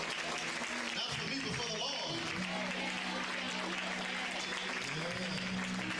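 A church congregation at a Sunday morning service claps in sustained applause, a dense steady roar of hands, while someone speaks over it.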